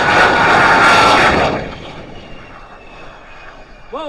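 Roar of a jet-powered vehicle making a run at the Fort Wayne Air Show 2025: a loud, broad blast for about a second and a half that then drops away into a distant, fading rumble.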